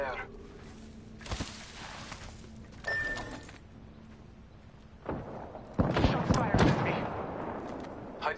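Gunfire in a battle royale video game: scattered shots and bursts, some distant and some louder and closer, over a steady background hum, with a voice speaking between them.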